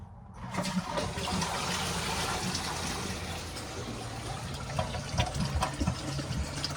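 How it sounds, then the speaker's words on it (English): A toilet flushes and its cistern refills, with loud, close rushing and churning water running steadily for several seconds before easing into a softer trickling fill. "Just doing a few flushes now."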